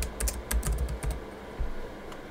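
Someone types quickly on a computer keyboard, a close, brisk burst of clicking keystrokes with short pauses and nobody talking.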